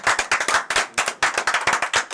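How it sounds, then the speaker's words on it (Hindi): Students clap to welcome a teacher, a loud, close burst of quick hand claps in an uneven, lively rhythm with no talking. "रजनीश सर का स्वागत करिए और ताली के साथ"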